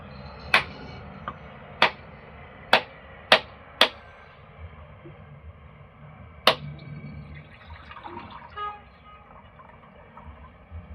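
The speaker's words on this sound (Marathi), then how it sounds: "आपण नारळ फोडून घेणार आहोत" A coconut is cracked open on a cramped home balcony for Gudi Padwa: about six hard, sharp knocks spaced a second or so apart, then a soft trickle of liquid and faint rustling.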